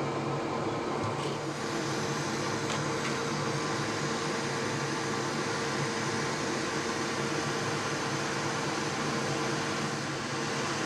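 A hot air rework station blowing a continuous loud airy hiss while reflowing the solder on a Nintendo Switch USB-C port, steady and close with no speech.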